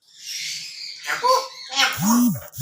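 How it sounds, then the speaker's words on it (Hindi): A pet grey parrot makes a string of short, raspy squawks, chirps and a warbling whistle, close to the microphone in a quiet room. "अबू गंदी आवाज नहीं निकालते, बुरी बात होती है।"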